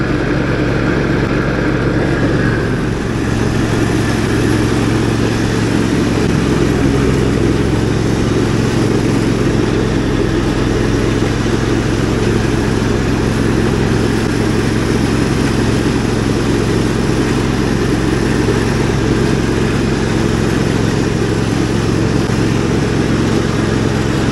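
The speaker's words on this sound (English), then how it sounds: "Just giving these a very quick mow now." A lawn mower cuts garden grass at a plant nursery, its engine droning loudly and steadily from start to finish, close by, with no talk over it.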